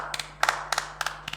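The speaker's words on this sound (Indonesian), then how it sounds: "tepuk tangan dulu" A few people clapping together at a school student-organisation talk: short bursts of hand claps in quick pairs, close and moderately loud over a low steady hum, with no speech.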